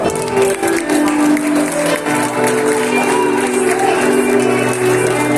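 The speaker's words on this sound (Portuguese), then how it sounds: "Em nome de Jesus, aplauda o nome do Senhor" A church congregation claps and cheers together, a dense, sustained wash of applause mixed with murmuring voices.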